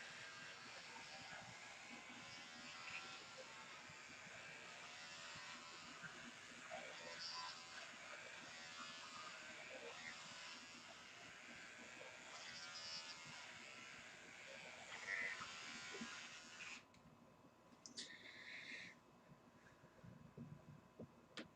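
Electric hair clippers in regular mode, with the turbo off, cut through hair. A continuous buzzing hum runs for most of the clip, is briefly interrupted near the end, and then resumes in faint bursts.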